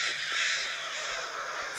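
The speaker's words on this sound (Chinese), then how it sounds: "乌鸦的叫代表人" A crow caws in the horror puzzle game Sinister Edge, a harsh cry that carries steadily over an airy, hissing ambient backdrop with no voices.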